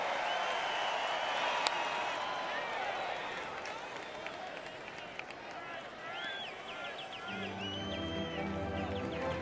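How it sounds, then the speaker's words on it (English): Baseball stadium crowd at a Cardinals vs Nationals game, a broad steady roar of cheering and noise from many fans, moderately distant, with a commentator talking over it throughout. "Crowd making some noise."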